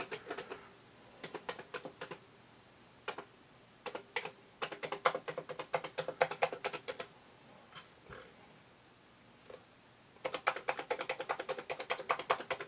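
Keys on a Commodore PET keyboard clack in irregular bursts of typing, with a pause mid-way and a dense run of keystrokes at the end, close and fairly quiet.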